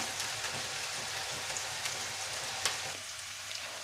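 Leftover cold chicken sizzles in a pan as the alcohol cooks off after flambéing. The frying hiss is a steady, rain-like crackle with small pops scattered through it, close and even throughout, and no one speaks.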